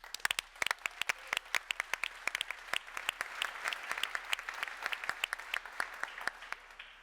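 Applause for clients at a business conference: many individual hand claps in a steady, fairly dense patter, moderately quiet and continuous.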